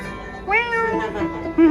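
Cats at a rescue cafe for street cats give a couple of close, clear meows, one rising and drawn out, another short and sharp at the end.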